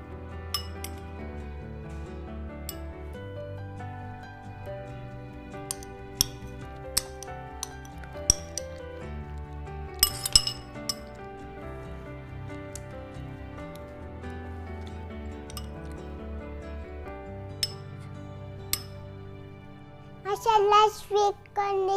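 A spoon stirs masala sweet corn in a glass, giving scattered light clinks and taps over a soft steady tonal background, with a short cluster of brighter clinks near the end.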